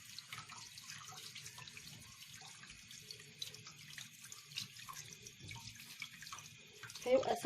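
Tap water runs steadily into a sink while beef tripe casings are rinsed and turned under the stream, with a faint splash near the end.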